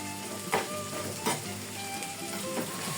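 Onions and green chillies fry in a pan with a close, steady sizzle and a few soft stirring scrapes. Nobody speaks.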